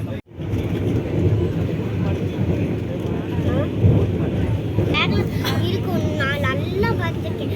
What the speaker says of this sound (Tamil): திண்டுக்கல்லேருந்து கிளம்பிடுச்சு நம்ம ட்ரெயின்.